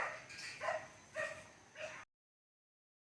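A puppy at a fishing pond gives three short yips and barks in quick succession, fairly close and moderately loud, then falls silent.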